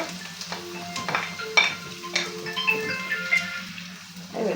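Onions frying in a pan of butter and oil, a soft steady sizzle with intermittent stirring clinks and scrapes close by, no voices.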